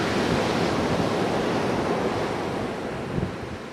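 Indian Ocean surf rolling in below a seafront overlook in Australia, a steady, dense roar of breaking waves with wind buffeting the microphone, continuous and loud with no voices.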